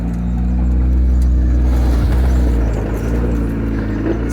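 A Jeep rock crawler drives along a bumpy farm trail with 55 acres of farmland around it. It makes a steady, loud, close engine drone with low rumbling, and there is no talk.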